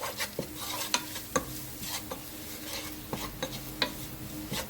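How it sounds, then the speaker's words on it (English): Spoon stirring cayenne-spiced chickpeas around a pan, a steady scraping with sharp clinks against the metal every second or so over a soft background sizzle; no talking. "I'm just going to mix that around"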